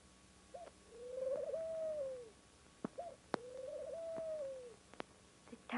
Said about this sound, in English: The time of the singing of birds.